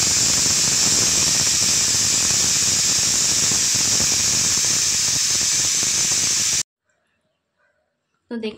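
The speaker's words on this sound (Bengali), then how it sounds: "এবারে এগুলোকে এই প্রেসার কুকারের মধ্যে দিয়ে একটু 2 কি 3টে সিটি মেরে নেব।" Loud, continuous high-pitched hissing whistle of a pressure cooker steaming chickpeas, holding steadily for several seconds, then stopping abruptly into silence before a faint clatter.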